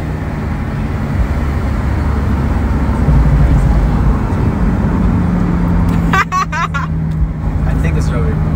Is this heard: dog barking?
no